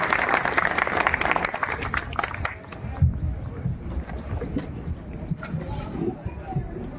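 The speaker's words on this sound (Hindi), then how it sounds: "मनोज भारती जी अब आपके बीच में जोरदार तालियों से स्वागत कीजिए।" Steady applause from a crowd at an outdoor political rally in Siwan fills the first few seconds, then thins out into scattered claps and outdoor crowd noise.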